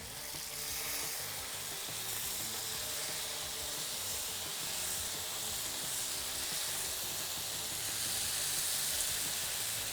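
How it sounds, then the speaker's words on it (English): Chicken satay skewers sizzling steadily on an oiled grill pan, a loud, continuous close-up hiss and crackle of frying with no talking. "Oh, hear that sizzle? That's what you want right when you put it on."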